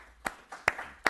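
A lone person claps three times, sharp and fairly distinct, from the back of a town board meeting room, evenly spaced with no talk over them.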